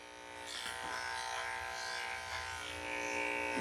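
Electric dog grooming clippers with a 10 blade buzz continuously while shaving a Coton de Tulear, a close, steady whine with slight shifts in pitch as the blade moves through the coat.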